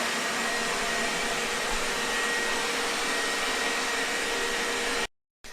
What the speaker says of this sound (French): je vais demander à l'aspirateur robot de nettoyer uniquement cette zone-là